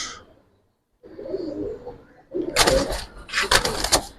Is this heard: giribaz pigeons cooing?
yes